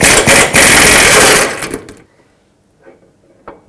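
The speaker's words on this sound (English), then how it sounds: "with my 21mm socket and swivel, I'm going to get in here and remove the nut that holds on this bushing" Impact or power tool with a 21mm socket and swivel removing the nut on a front lower control arm bushing of a 2005-2009 Chevy Equinox; a loud buzzing burst for about two seconds, then stops, leaving faint clicks.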